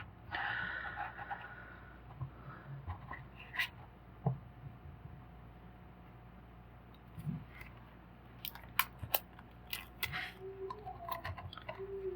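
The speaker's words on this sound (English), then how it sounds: "I'm going to cut them little bits at a time." Scissors snipping a Color Street nail polish strip in small pieces, giving faint irregular clicks and crisp cuts in a quiet room, clustering toward the end.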